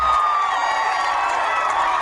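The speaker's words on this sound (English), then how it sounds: "Crowds gathered outside the courtroom reacted with wild cheers and applause" A crowd gathered outside a courtroom after a murder verdict cheers and claps in a dense, steady roar, with shouts and whoops rising over continuous applause throughout.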